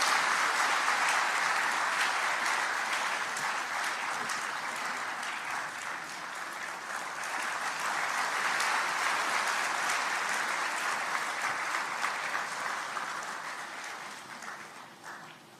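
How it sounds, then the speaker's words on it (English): A large audience at a TechFest talk gives a sustained round of applause, a full wash of clapping that swells midway and thins out toward the end. "Huge round of applause."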